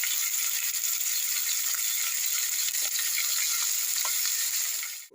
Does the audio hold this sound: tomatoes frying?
yes